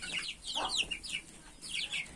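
Young Hint and Splash Wyandotte chicks peep and chirp in a quick, overlapping string of high, thin calls, close by and steady for a couple of seconds.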